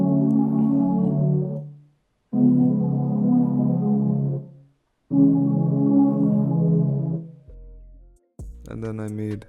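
Lush, reverb-washed synth chords for a smooth R&B melody, processed through Cradle's Spirit reverb plugin, sounding as three sustained swells separated by brief pauses and then a short, thinner phrase at the end.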